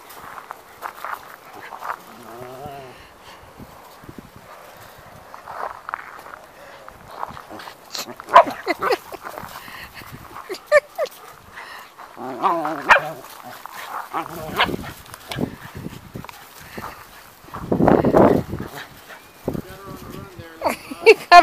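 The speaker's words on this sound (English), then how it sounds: "It's called the little dog beating up on the big one." A small dog and a big dog play-fight outdoors, with scattered growls, yips and short barks, scuffling paws and panting coming in uneven bursts, while people talk quietly nearby.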